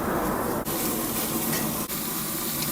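Meat searing on a very hot griddle for queso birria bites, a steady loud sizzle and hiss with two brief dips where the crackle drops out momentarily, no voices.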